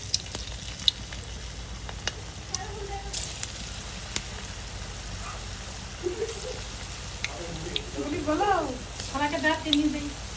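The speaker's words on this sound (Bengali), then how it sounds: "গরম তেলের মধ্যে পিঠাগুলো ছেড়ে দিয়েছে, এখন ভাজা হচ্ছে।" Pulli pitha rice cakes frying in hot oil, a steady low sizzle running throughout with a few faint clinks, the bubbling swelling a little louder near the end; a voice murmurs briefly in the background.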